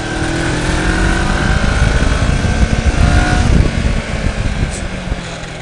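A motorcycle engine runs loud and close while held in second gear, its rough steady drone rising and falling slightly as it is ridden.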